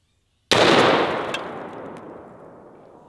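A single loud .338 Lapua round from a Barrett MRAD sniper rifle strikes its target with a sharp crack, followed by a long, fading outdoor echo that lingers for over two seconds.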